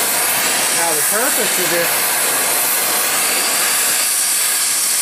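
A welding torch roars with a steady, loud hiss while heating welding wire for homemade melting dish tongs, continuous and close throughout, with a voice talking briefly over it.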